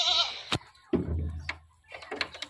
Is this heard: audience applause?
no